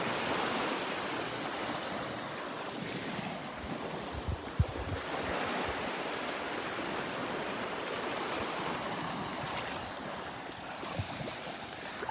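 Ocean surf washes continuously onto a Gulf beach at Delnor-Wiggins, a steady broad roar of breaking waves with gusts of wind buffeting the microphone and no voices.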